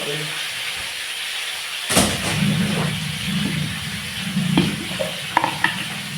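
Shredded cabbage hits a hot frying pan and bursts into a loud steady sizzle, with scraping stirs and occasional clinks of the spoon against the pan.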